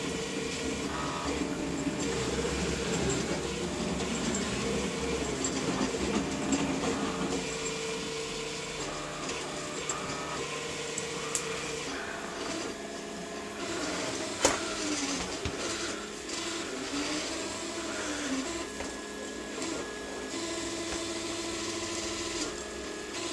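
A CNC machine axis, on a Lautr3k build, pushed by hand along its rails toward the stepper motor end, giving a steady mechanical rolling and scraping whir with a brief sharp click partway through.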